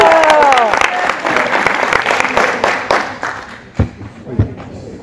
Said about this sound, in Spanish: Líderes, un aplauso también.